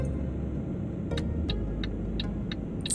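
A low, steady truck engine rumble from Euro Truck Simulator 2 drones throughout, with a few faint ticking clicks scattered over it and no voices.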